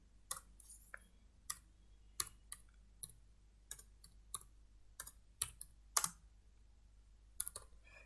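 Someone types text into PowerPoint 2013 on a computer keyboard, with irregular, close, crisp keystroke clicks in a quiet room.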